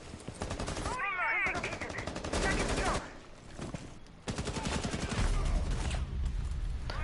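Rapid gunfire bursts in a tactical shooter game, rounds fired through a wall during a tournament match, loud and sustained over a dense mix of game effects and commentary-like voices.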